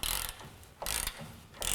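A ratchet clicks loudly and close as it loosens the tight 24mm nut on a front lower suspension wishbone joint of a Land Rover Discovery. The clicking comes in three rapid bursts with short pauses between them, and no one speaks.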